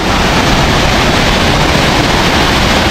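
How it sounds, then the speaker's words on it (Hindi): Water falls at a waterfall in the Uttarakhand hills, a loud, steady, close roar of broadband rushing noise that never lets up and has no other sounds over it. "पानी की, गिरते हुए पानी की,"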